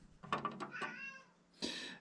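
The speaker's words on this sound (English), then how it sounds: "Hush, cat, stop." A cat meows in an aircraft-building workshop during an RV-14 trim tab project, two or three close, chattering meows with a pause between, fairly quiet and alone.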